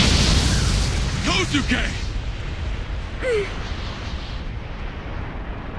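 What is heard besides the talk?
bomb explosions in an anime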